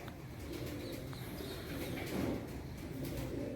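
Pigeons coo continuously in a loft, overlapping low throaty calls under a busy, noisy background with occasional faint chirps.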